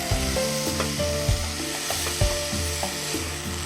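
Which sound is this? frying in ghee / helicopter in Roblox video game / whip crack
frying in ghee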